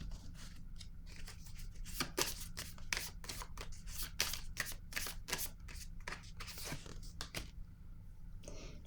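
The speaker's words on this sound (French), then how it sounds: "Je vais piger une autre carte." Tarot cards being shuffled and drawn make quick, close, soft riffling and flicking snaps in rapid irregular bursts, fairly quiet, easing off near the end.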